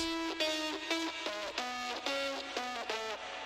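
Electric guitar driven through a blood overdrive into a JCM 900 amp on channel A plays loud, heavily distorted sustained notes and chords in a steady rhythmic pattern, with no voices.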